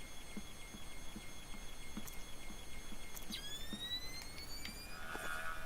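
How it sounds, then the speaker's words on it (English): An alarm siren sounds in the stealth video game Splinter Cell: Chaos Theory, a steady rising electronic tone with faint repeated pulses, heard against a constant background hum of game ambience. "Fisher, looks like Zerkezi has his own alarm system."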